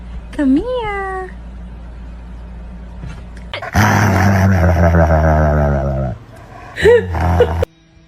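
A pet cat meowing close up: a drawn-out rising meow, a pause, then a long loud wavering yowl like a caterwaul, and another short meow after, alone without talk.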